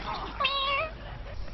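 A cat in Left 4 Dead 2 lets out a single short, rising meow, close and clear, above low background noise.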